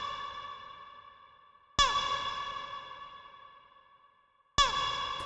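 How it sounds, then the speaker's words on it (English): A low, sustained pitched-down vocal sample with a little low-pass filtering and heavy reverb, retriggered twice, each hit decaying slowly into a long echoing tail. "it's this vocal here that I just have pitched down."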